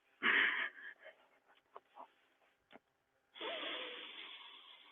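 Deep, purposeful breaths drawn right into the bottom of the lungs: a strong close inhale with a wheezy edge, a few faint breathy pauses, then a long steady exhale, quiet and with no talk.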